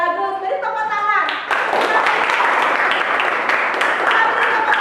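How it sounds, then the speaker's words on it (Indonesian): A school classroom of students breaks into applause; a voice speaks briefly before loud, dense clapping from many hands takes over and continues steadily for several seconds. "Bagus, beri tepuk tangan."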